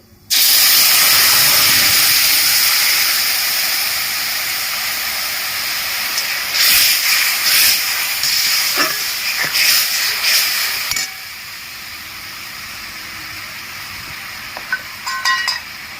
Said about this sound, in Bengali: সর্ষে ফোড়ন দিয়ে দিচ্ছি গুলিয়ে রাখা তেঁতুল দিয়ে দিচ্ছি